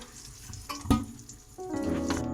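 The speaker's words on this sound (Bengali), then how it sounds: "আলুগুলো ভাজা হয়ে গেছে লাল লাল করে, আমি আলুগুলো তুলে নিচ্ছি" Potatoes fried red-brown in oil for an egg biryani crackle and sizzle close by, with a sharp clatter near the start as they are lifted out and a steadier hiss building toward the end; no talk.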